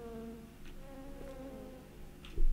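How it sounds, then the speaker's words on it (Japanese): Fly buzzing in the horror video game Lurk in the Dark, a steady insect drone over a low ambient game hum with a few faint clicks, then a louder thump near the end. "これハエだよな、音。"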